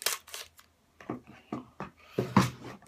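Scissors cut open a Nerdblock subscription box package during an unboxing, giving six or seven crisp, close snips in an uneven rhythm with brief pauses between them.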